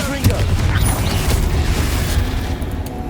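Booming spell blasts from Confringo erupt in Hogwarts Legacy, loud bursts layered over rumbling game effects while a voice shouts spell names over the noise.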